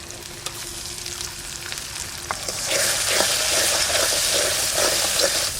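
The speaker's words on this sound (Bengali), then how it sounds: "কাঁকড়ার গিলিটা দিয়ে দিচ্ছি" Red crab roe frying in a pan with turmeric, garlic, ginger and green and dried chillies, Sundarbans style; a steady close sizzle that swells louder partway through, with light stirring clicks and no talk.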